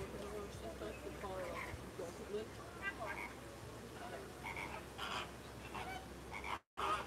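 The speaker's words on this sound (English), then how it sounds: "Look at the ducks." Outdoor chorus of loud, repeated quacking and croaking calls from ducks at Disney's Animal Kingdom, nearby and continuous, with voices talking faintly underneath.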